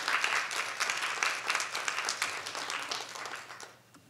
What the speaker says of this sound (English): I'd like to give another round of applause, if we could, for our wonderful speakers.